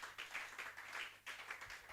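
Faint, rhythmic clapping from a church congregation acclaiming the Lord Jesus. The claps come in steady, quick pulses, heard distant and soft with no voices.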